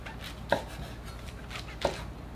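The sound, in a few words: cutting the root ends off shimeji mushrooms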